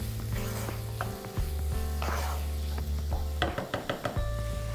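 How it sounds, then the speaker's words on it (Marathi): Chopped onion, salted and being stirred for a spicy mutton curry, sizzles steadily in a pan while a spoon scrapes and taps against the metal in a run of quick, close knocks. "आणि आता हे परतून घ्यायचं आहे आणि हा कांदा छानपैकी कोंबून घ्यायचा आहे"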